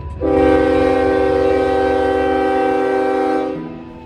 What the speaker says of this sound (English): Approaching is train 123.